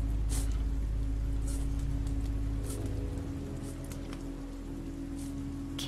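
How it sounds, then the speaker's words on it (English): Steady rain falls in The Walking Dead Season 2 game, a constant close hiss of patter with a deep rumbling undertone that eases slightly midway. "This rain will turn to sleet, then ice, then snow."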